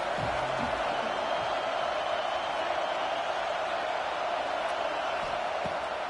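A stadium crowd in a football video game gives a steady, loud, unbroken roar that holds at the same level throughout, with no clear voices standing out.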